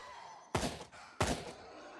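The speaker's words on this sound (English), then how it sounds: "the grenade went off" Two heavy, muffled booms about half a second apart from grenade blasts in the video game Fear the Night, each a sharp thump with a brief rumbling tail over a quiet background.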